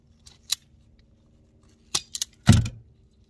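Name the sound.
cutting and stripping a ground wire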